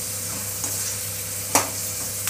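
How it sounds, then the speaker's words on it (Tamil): Hot oil sizzles steadily in a pan with light stirring, and a brief sharp crackle bursts partway through as spices hit the oil. "கொஞ்சமாக எண்ணெய் ஊற்றி நம்ம தாளிக்க"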